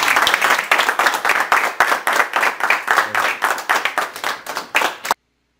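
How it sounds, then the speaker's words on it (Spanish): Rhythmic unison clapping from a group at a 96th birthday celebration in a rural community in Ocampo, Tamaulipas, loud and close with regular beats, stopping abruptly into silence. "¡El aplauso!"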